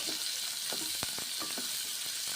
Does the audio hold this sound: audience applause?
no